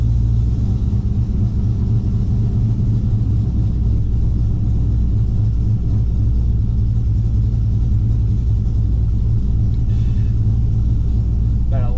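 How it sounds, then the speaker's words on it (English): A Gen 3 engine idling cold at around 850 to 900 RPM, a steady low rumble that stays loud and constant, close to the engine. "About an 850 to 900 RPM idle when it's still cold though, so just let it warm up here for a second."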